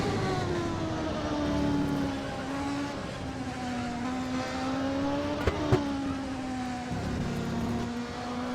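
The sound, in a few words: Ilmore Chevrolet race car engine, onboard with Raiden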